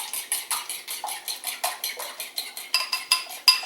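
A fork beats rapidly inside a small bowl, a quick run of bright metallic clinks and scrapes against the sides, close and steady, growing a little sharper toward the end.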